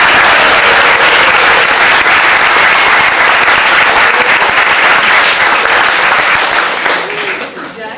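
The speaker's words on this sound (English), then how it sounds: "So I'd like all of you to please give Mrs. Sweeney a round of applause." An audience at a school gathering gives a teacher a sustained round of applause, loud dense clapping throughout that fades slightly at the end.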